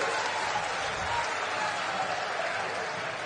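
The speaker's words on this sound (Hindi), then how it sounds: "तालियों की गड़गड़ाहट से हम सबके नेता आदरणीय राहुल गांधी जी का अभिनंदन करें।" Dense crowd applause at an outdoor Jan Aakrosh political rally in Shahdol, Madhya Pradesh, a steady roaring wash of many hands, loud and continuous throughout.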